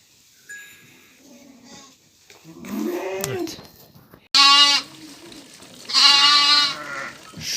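Several lambs separated from their mothers bleat loudly and close by, high wavering cries one after another with brief pauses, over a quiet barn background.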